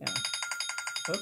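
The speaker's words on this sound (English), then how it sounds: "That's my alarm." Rapid repeating electronic alarm, a phone-style ring of evenly pulsed bright tones in a classroom setting, fairly loud and steady, with a brief spoken exclamation over its end.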